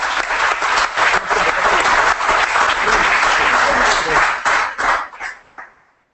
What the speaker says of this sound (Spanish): Un aplauso para Julio